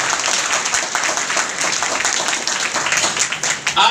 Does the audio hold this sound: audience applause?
yes